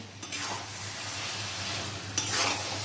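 Mutton ghugni with minced mutton fat being stirred in a frying pan, a steady close scraping and soft sizzle running throughout with a brief louder scrape near the end.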